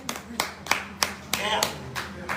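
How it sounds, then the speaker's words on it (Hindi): Loud hand claps ring out in a steady sequence of about eight sharp strikes, evenly spaced, close and dry against a quiet room. "जोरदार ताली बजाइए"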